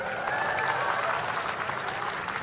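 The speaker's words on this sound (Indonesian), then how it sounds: "Tepuk tangan semuanya, keren" A crowd of young participants at a speech event claps in a dense, continuous burst of applause, fairly even in loudness across the short stretch with faint voices mixed in.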